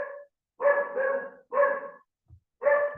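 A dog barks four times in a steady rhythm, fairly close and moderately loud, with short gaps between barks and no other sound.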